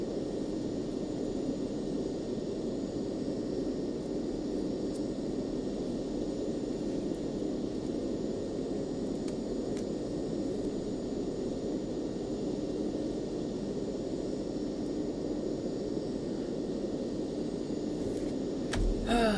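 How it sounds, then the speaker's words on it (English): Steady, continuous jet engine roar from a Cessna Citation CJ (C525) business jet in a flight simulator, a broadband hum holding at an even level throughout with no talking. "Airplane fired up and going nicely."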